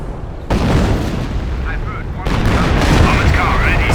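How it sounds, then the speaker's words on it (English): A sector artillery barrage in Company of Heroes 1 booms and rumbles as heavy, continuous low thunder that swells louder about halfway through, with voices over the shelling. "Corbelier can now deploy sector artillery to strike fear to the hearts of the enemy"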